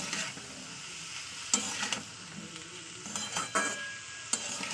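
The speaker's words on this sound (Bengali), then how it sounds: "আবার একটু তেলের সঙ্গে সমস্ত মশলার সঙ্গে কষিয়ে দেবো" Masoor dal being sautéed with spices in oil in a pan, a steady sizzle with scraping stir strokes and a few sharp utensil clanks against the pot, close and moderately loud.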